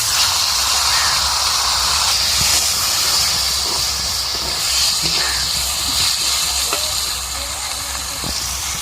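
Boiled taro dropped into a hot pan tempered with dried red chillies and bay leaves, giving a steady, fairly loud hiss and sizzle that runs throughout with little change.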